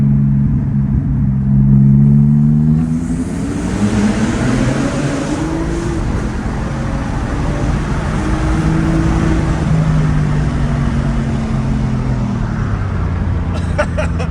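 A 600 HP Porsche 911 997.2 in Sport Plus mode accelerates in Mexico City, its engine note climbing steadily through the gears as a loud, continuous rumble from inside the car, with rising harmonic sweeps and a brief shift near the end.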